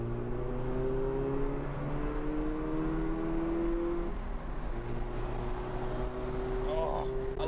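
A leaking Mazda RX-7 convertible's rotary engine revs up high with rising whining tones, drops back, then climbs again, heard from inside the car at moderate level.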